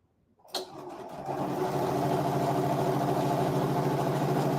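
A Janome M7 sewing machine starts up after a soft click and settles into a fast, steady whirring run that continues evenly at close range, without speech.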